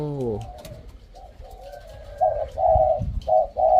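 A dove gives a soft repeated cooing call, several low hooting phrases close by, with a brief higher bird note at the start.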